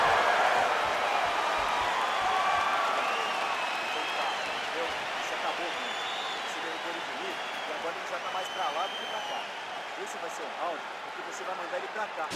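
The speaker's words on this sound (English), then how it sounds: "So the crowd voicing its appreciation after that round" Arena crowd at a UFC middleweight bout applauding and cheering after a round, a broad steady roar with scattered whoops, heard under continuous commentary voices.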